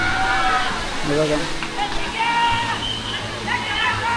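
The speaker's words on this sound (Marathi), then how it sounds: "समोर तुम्ही बघू शकता हा आपला काळ मांडवी धबधबा." Water from the Kalmandavi waterfall in the Sahyadri mountains flows in a steady, broad rush that continues under a voice speaking close by.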